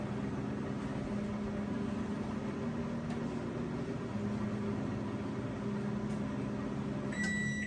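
A microwave oven hums steadily with oysters inside, a constant close drone for several seconds, ending with a few bright beeps.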